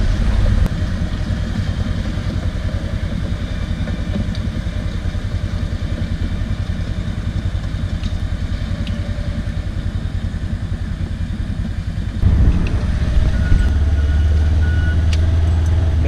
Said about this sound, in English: Coming here with the bulldozer, this thing might slick off and be alright.